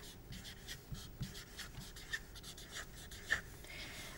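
A pen or pencil writes on paper during a school life-sciences lesson, with a steady, close scratching of short strokes that comes in quick bursts, fairly faint, with no talking over it.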